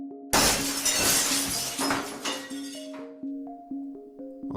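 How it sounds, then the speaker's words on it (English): Car window glass shatters suddenly in a loud burst of cracking and tinkling fragments, followed by scattered small clinks and pings as pieces settle, with a soft musical tone underneath. "a tiny divot in the glass split up suddenly into a spider web of fractures"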